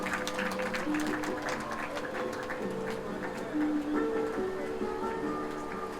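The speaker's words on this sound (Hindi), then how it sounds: "आपके द्वारा आपके लिए ये तालियां जो है वो बजती रहनी चाहिए" An audience applauds at a gathering with seniors. The clapping is moderate and crackling and continues steadily, with sustained tones underneath.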